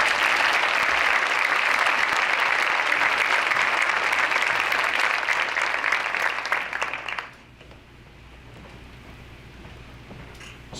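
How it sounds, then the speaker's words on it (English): Dense, sustained applause from an audience at a high school academic awards assembly, loud and continuous for about seven seconds before cutting off into quiet room tone. "You could give them a round of applause."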